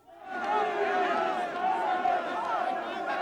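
An angry crowd in an ancient city breaks into uproar, many voices shouting and clamoring together at close range in a dense, sustained roar that swells after a brief quiet start and holds steady.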